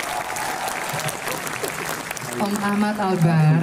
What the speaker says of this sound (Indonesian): Tepuk tangan yang meriah buat Mas Andi.